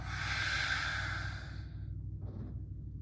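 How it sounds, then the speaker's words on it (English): A long, forceful lion's breath exhale during a slow vinyasa home yoga session, a breathy open-mouthed rush of air fading out, followed by a softer second breath. "Lion's breath out."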